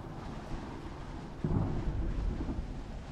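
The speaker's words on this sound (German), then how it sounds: "Es regnet, es ist Sturm." Thunderstorm with rain in the survival video game Smalland: a soft hiss of rain, then a deep rolling thunder rumble swells midway and lingers low and heavy.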